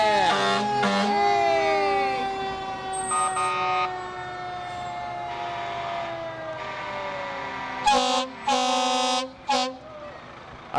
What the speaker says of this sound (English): I love these sirens